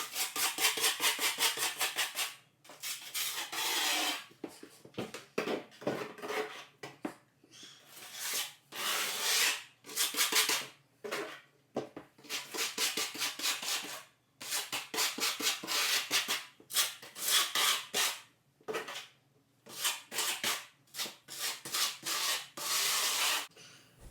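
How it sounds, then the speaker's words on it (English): A trowel scrapes and rubs thinset mortar across the seams of 1/4-inch Hardie backer board during a bathroom remodel, in repeated close, rasping strokes separated by brief pauses, with no voices. "Start by spreading a thin layer of thinset a couple inches wider than the tape."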